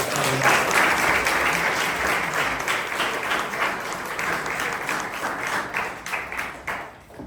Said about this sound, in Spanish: Le damos una ofrenda de aplauso a Dios.